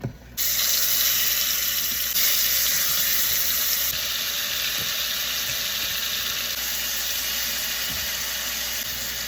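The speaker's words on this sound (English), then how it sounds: "I'm saving everything in this bowl so I can add water to it" Tap water gushes steadily into a bowl, a bright hissing splash that starts abruptly and keeps running without pause.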